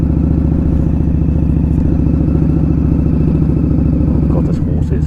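A loud Indian Scout Bobber motorcycle engine rumbles steadily while riding on UK roads, a close, throbbing low pulse that continues throughout with little change.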